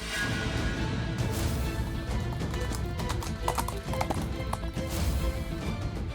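Two horses gallop away, rapid hoofbeats clip-clopping close and loud over a busy background of music and ambient noise in a TV drama scene.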